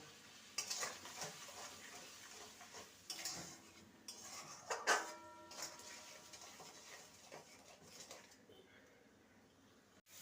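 A spoon scrapes and stirs spice paste with turmeric and salt in a pan, giving irregular clinking and scraping bursts over a soft background sizzle, fairly faint, with no talk.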